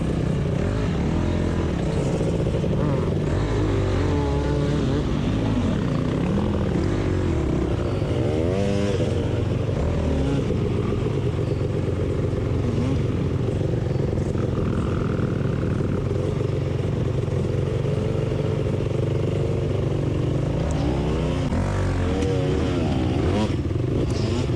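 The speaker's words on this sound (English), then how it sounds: "He's on like a 250, and he's having to clutch it to get his rear wheel to spin through that crap" A 250cc dirt bike engine revs hard and continuously as the rider works the clutch to spin the rear wheel through a muddy bottleneck section of a race course, a steady close droning roar with fluctuating pitch, plus faint voices in the background.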